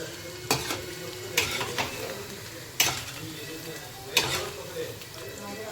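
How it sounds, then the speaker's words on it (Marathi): Onion and gram-flour bhaji fry in hot oil with a constant sizzle, broken by several sharp clinks and scrapes of a utensil against the pan. "आपल्याला कडक तेलात टाकायची भजी, पण त्यांना शिजवायचं आपल्याला कमी गॅसवर"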